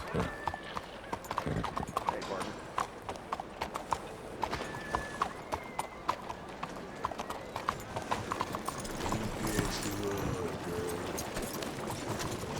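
Horse hooves clip-clop in a steady walking rhythm in the video game Red Dead Redemption 2, crisp and close, with a brief snort or whinny near the end.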